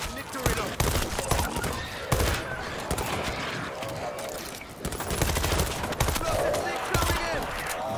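Gunfire in the video game Missile Command: rapid, loud bursts and single shots in close succession through the whole span, with players calling out over the shooting.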